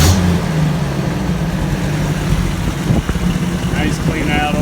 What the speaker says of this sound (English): Nice clean idle.